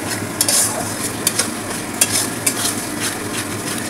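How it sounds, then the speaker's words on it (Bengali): Mutton is sautéed with yogurt in a pan over a low gas flame: a soft steady sizzle with a few sharp scrapes and clinks of a spoon against the pan, close by, with no talking. "দইটা দিয়েও কষাতে হবে ভালো করে"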